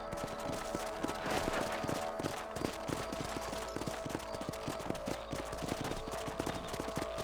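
Horse hooves clip-clop steadily on the ground in the Red Dead Redemption video game on a ranch, a brisk rhythmic run of close hoofbeats over a continuous background bed, with no talk.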